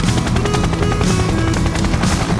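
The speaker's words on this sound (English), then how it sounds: "Hi, I am a helicopter. I can fly and hover in the sky." A helicopter drones steadily and loudly with a dense rotor thrum and engine roar, continuous and close, with no voices over it.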